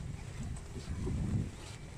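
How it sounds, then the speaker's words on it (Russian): Low, rumbling wind during a bicycle ride in a German forest buffets the microphone in steady gusts, swelling slightly in the middle, with no voices. "Ах, этот ветер, ветер,"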